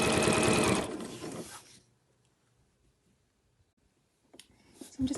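Sewing machine stitching folded tape along a length of bunting, a loud steady mechanical whir for about the first second that trails off into near silence, with faint handling noises returning at the end.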